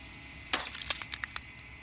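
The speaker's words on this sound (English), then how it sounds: "A crack slides down the center of the mirror, splitting the image in the glass in two." Glass cracks with a sharp burst followed by a quick series of smaller splintering clinks and ticks over a faint steady hum.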